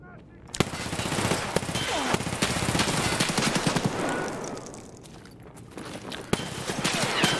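Gunfire in the video game Escape from Tarkov: sharp, loud shots and short bursts crack at irregular intervals over a busy background, with a few pauses between volleys.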